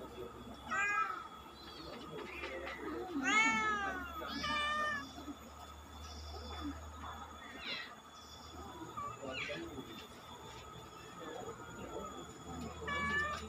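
A cat meows repeatedly behind a fence, several clear rising cries spaced a few seconds apart, fairly close over quiet outdoor background with occasional faint voices.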